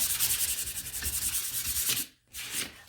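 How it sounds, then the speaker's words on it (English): Sandpaper rubs along the grain of a wooden shiplap shamrock craft piece in quick, steady back-and-forth strokes, close and fairly loud, with a brief pause near the end before the scratching resumes. "You're going to want to sand with the grain"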